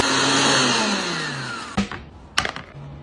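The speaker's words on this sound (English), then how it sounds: "Get the parsley into a blender, add some neutral oil, I'm using grapeseed oil," A blender runs loudly on parsley and grapeseed oil, its motor whir winding down and stopping, then two sharp clicks and clunks follow.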